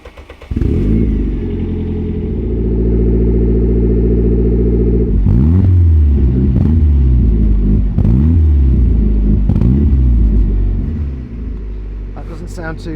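A Ford Escort RS Cosworth engine starts with a short crank, then runs with a deep lumpy rumble, blipped into several sharp revs before dropping back, loud and close.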